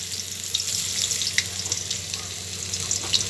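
Chopped onion hits hot oil with dried red chilli already in the pan, giving a steady bright sizzle with small pops and crackles, close and continuous, while greens are being fried.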